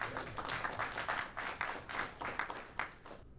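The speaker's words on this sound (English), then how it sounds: "Applause." Audience applause for an evening venture capital panel on AI investment, a steady wash of many hands clapping at moderate level that tapers off near the end.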